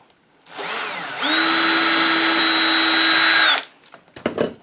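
Power drill boring holes in a steel dovetail saw plate, a loud close whine that starts, dips briefly, then holds a steady high pitch for a couple of seconds before stopping, followed by a few clanks.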